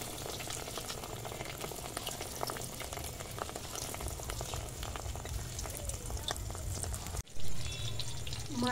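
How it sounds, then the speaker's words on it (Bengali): Small fish-roe fritters (macher dimer bora) fry in a generous amount of hot oil, a continuous bubbling sizzle with crackling pops, steady and close, with a brief break near the end. "এরকম ছোট ছোট করে বড়া ভেজে নেব।"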